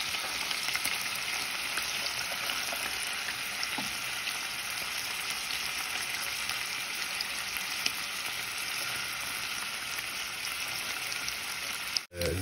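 Onions and chicken sauté in a hot pan, giving a steady, even sizzle that holds at one level throughout, broken by a brief clunk near the end.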